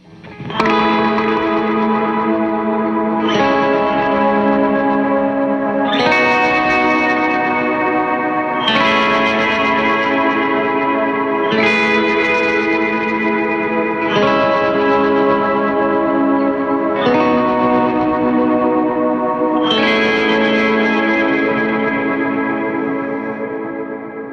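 Electric guitar chords ring out in repeated strums, each swelling with a shimmering, wavering chorus and tremolo reverb tail, loud and continuous with no voices.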